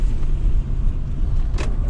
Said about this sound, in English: This car actually drives nice and smooth.